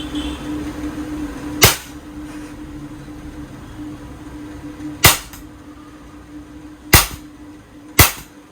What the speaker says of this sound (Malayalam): റെഡി ടു ഫയർ നമുക്ക് ഫയർ ചെയ്യാം